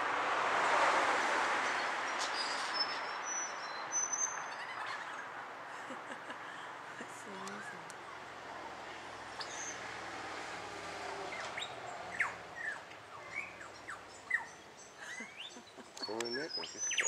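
A wild lyrebird on a log by a large termite mound mimics a person's tapping, giving scattered chirps and sharp clicks over a steady outdoor wash of background noise, mostly faint to moderate.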